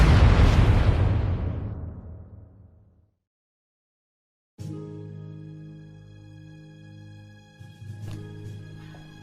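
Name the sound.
railway gun explosions in video game Trails of Cold Steel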